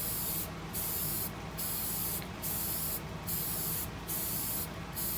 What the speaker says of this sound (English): I wanted you to see this first coat of lacquer as it goes on